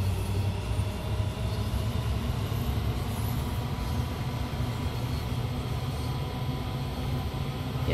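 A train in Train Sim World 2 rumbles along steadily, a continuous low mechanical drone with rail noise holding an even loudness throughout, no voices.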